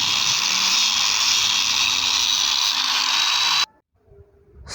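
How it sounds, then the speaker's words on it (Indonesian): Angle grinder smoothing the face of a machete blade, a steady high whirring grind that cuts off abruptly near the end, leaving near silence. "Pertama-tama kita haluskan dengan menggunakan gerinda sehalus mungkin pada bidang yang akan diberi warna."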